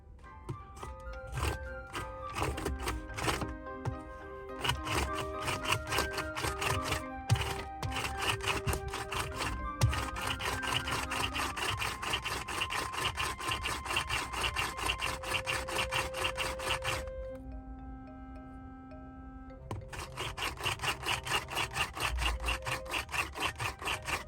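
Garlic chopper working through garlic cloves, a dense run of rapid rasping, clicking strokes that pauses briefly near the end before resuming, close and moderately loud with no speech.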